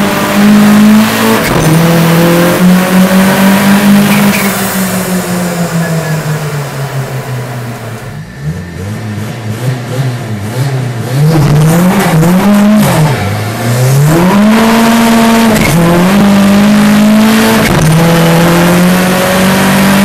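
A tuned Seat Arosa TDI making over 400 hp revs hard and accelerates on a test drive, its loud engine note climbing and shifting through gears, with a brief dip in the middle and occasional tyre squeal.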